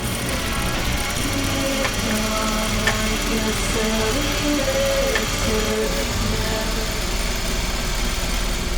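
A sewing machine runs steadily, stitching rows of gathering stitches through thick denim, making a continuous motor hum and rapid needle drone that stays even in loudness throughout.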